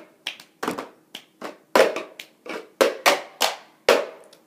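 Cup song rhythm with two cups: a steady sequence of crisp claps and hollow cup taps on a table, about a dozen close, dry hits in a looping pattern with no talking.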